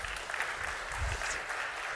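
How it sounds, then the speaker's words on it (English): A seated audience at a climate net zero talk claps in steady, continuous applause of moderate loudness, with a faint voice briefly underneath. "Give me an applause."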